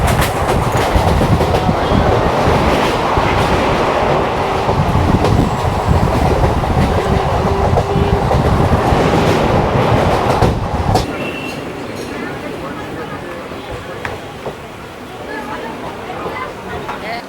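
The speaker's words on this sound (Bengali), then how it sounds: "প্ল্যাটফর্মে ট্রেনের যে স্পিড, তাও লোকাল ট্রেন" A Kolkata local train on the Sealdah–Ranaghat line passes a busy Dum Dum station platform at speed, a loud continuous roar with rapid clickety-clack of wheels that cuts off abruptly, leaving quieter station ambience and faint voices.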